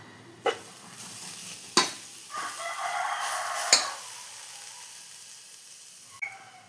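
Cabbage thoran with ground coconut paste being stirred in a pan, Kerala style: a few sharp spoon knocks against the pan over a soft sizzle and shuffling stir, loud and close with no talking.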